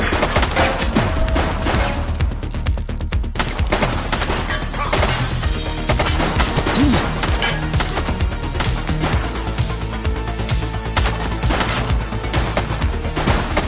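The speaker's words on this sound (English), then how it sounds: "He's shooting!" Gunfire in the police video game The Precinct, dense bursts of rapid shots and cracks running continuously over a busy, loud game soundscape without pause.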